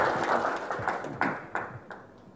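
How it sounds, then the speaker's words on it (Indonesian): Audience clapping in a hall after chants of independence, a loud continuous burst of applause with some sharper individual claps standing out, no one speaking over it. "Tepuk tangan untuk kalian."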